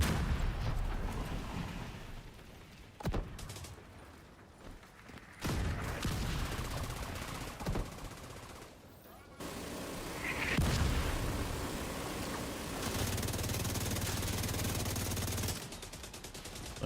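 Rapid gunfire and booming mortar blasts fill a video game firefight, dense and loud throughout with several abrupt cuts between bursts, and a steady low hum underneath in the latter part.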